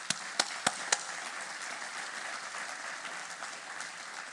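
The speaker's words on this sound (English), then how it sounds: "So a round of applause for that effort as well." A centennial event audience applauds, opening with a few sharp, distinct claps before settling into steady, dense clapping that holds at an even level.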